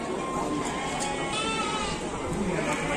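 Garut sheep bleat at the busy Andir livestock market, their calls blending into a dense, steady wash of crowd noise and chatter.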